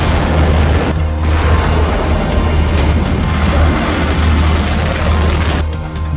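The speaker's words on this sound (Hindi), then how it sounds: "जब ईरान की ये मिसाइल फायर की जाती है तो तस्वीरें ऐसी होती हैं।" A loud, sustained roaring blast with deep rumbling and broadband thrust noise from an Iranian missile launch, holding steady for several seconds.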